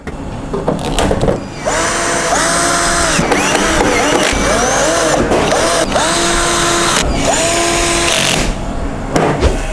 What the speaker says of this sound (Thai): นี่เราก็จะทำการใส่ฟ้านี้กลับนะครับ ใส่น็อตเหมือนเดิมได้เลย